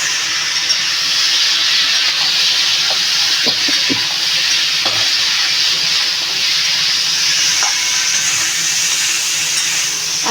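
Steady, loud hiss and sizzle of ghee hitting a hot pan of crab and potato curry with green chillies, continuous broadband frying noise throughout with a few faint clinks, no voices.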